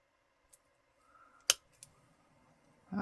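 A pair of scissors makes a few sharp, close snips and clicks, with one loud cut standing out among quieter metallic taps in an otherwise quiet room.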